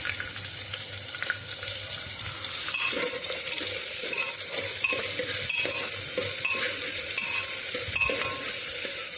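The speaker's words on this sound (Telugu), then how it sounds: "ఉల్లిపాయలు బాగా గులాబీ కలర్లో యాగాల, శుభ్రంగా చాలా బాగా వేగిపోవాలి ఇది" A large chopped onion frying in a pan until pink, a continuous close sizzle with frequent stirring scrapes, steady and alone without talk.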